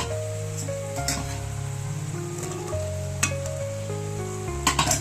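Fried potatoes dropped into bubbling spices in a pan while cooking taro stolons, giving a crackling sizzle with occasional clinks of utensil on pan over a steady tonal background.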